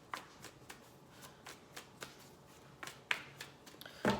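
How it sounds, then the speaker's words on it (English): Tarot cards are shuffled close by in quiet, soft riffling and slapping bursts at irregular intervals, faint and without talking. "So let's go ahead and shuffle this for a bit."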